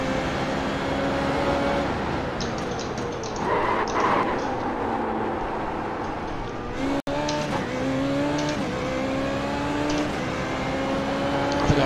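A Formula Renault 3.5 race car drives at Suzuka with a loud, continuous engine note rising and falling through gear changes, a brief dropout midway, then steady climbing revs.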